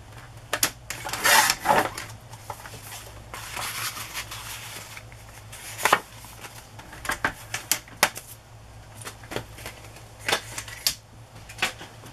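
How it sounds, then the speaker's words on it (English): Sewing machine stitching a paper envelope pocket, running in short irregular bursts of rapid clattering stitches separated by pauses and light handling sounds. "My sewing machine did not like this."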